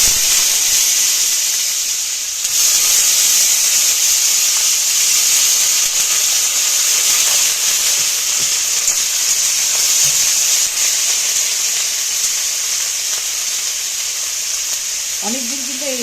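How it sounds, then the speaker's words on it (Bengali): Onion and garlic, with green chillies, frying in a pan give a loud, close, continuous sizzle with occasional stirring scrapes and a brief voice near the end. "পেঁয়াজ রসুনটা না ভালো করে একটু ভেজে নিতে হবে প্রথমে"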